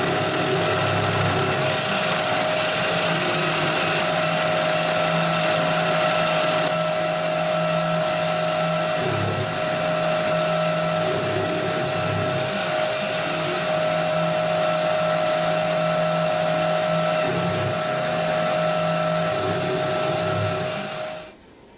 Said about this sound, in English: I'm using a 4-flute end mill, 3mm diameter. So I'll go ahead and get this one cut